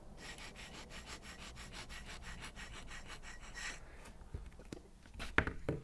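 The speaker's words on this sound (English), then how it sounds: "I'll just pick up the sound of the pen on the page" Pen scratching on paper during penmanship practice, picked up from the desktop, with soft, quiet, rhythmic strokes in a steady run that break into a few sharper, scattered scrapes toward the end.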